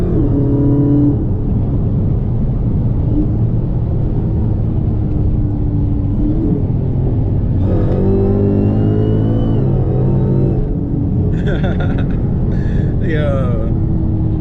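A tuned Dodge SRT Hellcat Charger's engine revs at half throttle, loud and close, a steady rumble rising into harmonic surges with popping bursts near the end, while voices talk over it.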